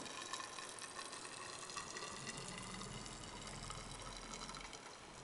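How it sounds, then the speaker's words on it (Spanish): Mercury poured in a very fine stream into a glass tube from a syringe during a lab demonstration, giving a continuous soft, hissing trickle that stays fairly even and faint throughout with no talk. "el tubo de vidrio recibe el mercurio con un chorro muy fino"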